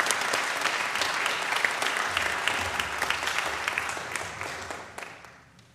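Sustained applause from a congregation at a Sunday service fills the room, loud and even at first, then thinning and fading toward the end.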